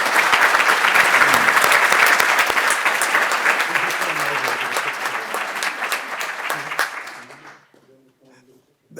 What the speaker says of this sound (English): How about a nice round of applause for Sawyer Hearn?